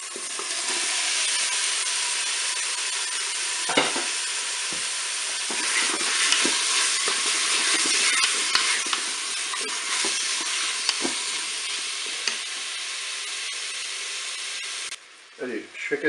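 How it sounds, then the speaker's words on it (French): Beef sizzling and frying in hot oil inside a Cookeo multicooker with onions, a steady dense crackle and hiss that runs unbroken, with occasional stirring clatter and a brief pause near the end. "l'huile est chaude. Allez, je vais ajouter la viande."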